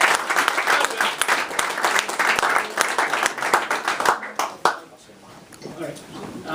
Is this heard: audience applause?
yes